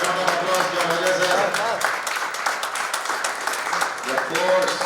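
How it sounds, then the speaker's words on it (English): An audience at a felicitation ceremony for a senior instructor claps in sustained applause, heard close and fairly loud while voices carry on beneath and over the clapping. "Please, a big round of applause to Ojha, sir"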